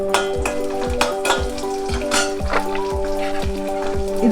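Garlic goes into hot spiced oil for Chettinad mutton uppu kari, sizzling close and steady while a spoon scrapes the pan in an even, repeated stirring rhythm.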